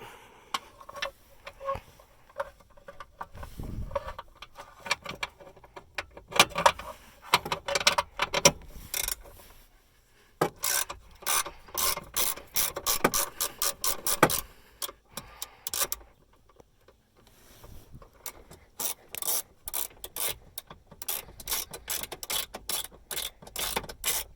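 A ratchet with an extension loosens 10 mm bolts on a 1995 Honda Civic, making rapid, crisp clicking bursts separated by short pauses.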